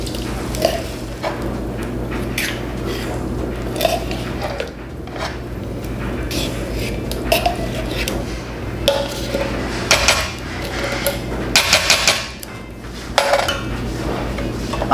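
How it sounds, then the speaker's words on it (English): Three cans of pork and beans being emptied into a pot for BBQ baked beans, with repeated metallic clinks and scrapes of can and spoon against cookware at close range, no talking. "now the recipe says to add our beans, so I'm adding 3 cans of pork and beans."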